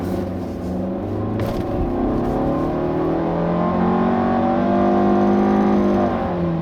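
A 2016 Nissan Altima 2.5 SV sedan's 2.5-liter four-cylinder engine with CVT accelerates steadily, its smooth rising drone heard from inside the cabin, loud and continuous with no talk.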